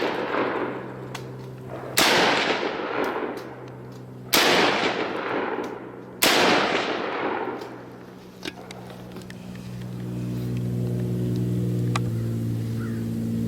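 Three loud rifle shots during a deer drive in the Wisconsin woods, spaced a couple of seconds apart, each booming and echoing off into the distance, followed by quieter ambient noise.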